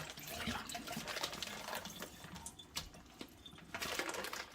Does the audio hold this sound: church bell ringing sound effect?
no